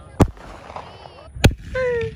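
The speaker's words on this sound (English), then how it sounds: "Looks like a firework to me." Backyard fireworks shot off outdoors, two sharp loud bangs about a second apart, followed by a rising whistle, with brief voices in between.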